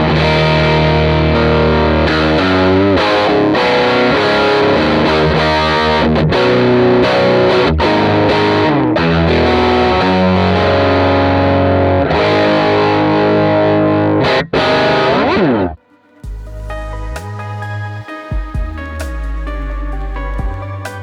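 Electric guitar played through a CorOS amp model with heavy distortion, with the tone raised and the master pushed: dense, sustained chords and riffs ring loud and steady, a brief break near the end, then sparser, thinner phrases.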